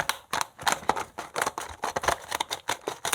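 Scissors snip through a tough plastic package in a quick series of sharp, crisp cuts, about a dozen close, loud bursts in an uneven rhythm.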